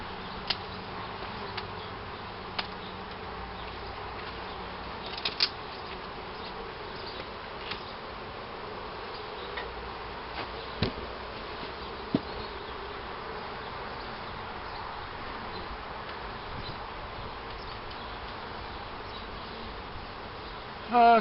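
Honeybees drone steadily around an open, palmarized hive being worked in July, a constant close buzz with faint occasional taps and clicks from the handling, and no voices.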